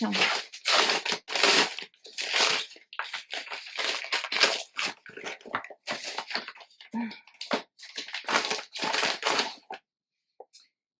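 Received parcels are unwrapped by hand, their packaging crinkling, tearing and crumpling in close, loud bursts separated by short pauses, fading to near silence at the end.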